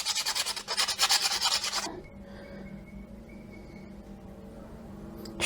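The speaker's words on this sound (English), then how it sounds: "I'll just give that a sand." A homemade metal fishing lure is rubbed with 120 grit sandpaper, giving a quick series of rhythmic rasping strokes up close, then fading to a quiet room hum.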